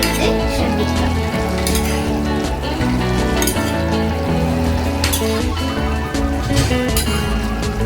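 Marathi sabji cooking in a pan, a dense steady sizzle with intermittent scraping and metallic clinks as a utensil stirs through it, loud and close; a tonal background hum runs under it throughout.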